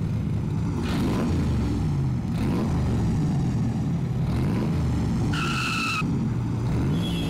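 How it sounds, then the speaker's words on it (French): Cartoon traffic scene with cars swerving between lanes: engines roar and tires skid and squeal in repeated bursts, a sharp high screech near the end, no talking. "Alors comme ça, on aime slalomer entre les voitures."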